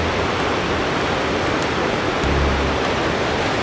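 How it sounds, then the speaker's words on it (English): Big waterfall on a massive river near Santo Domingo, Colombia, roaring as a steady, dense broadband rush close by, continuous and loud throughout with no voices over it. "Beautiful waterfall near our shoemaker's finca where he grew up."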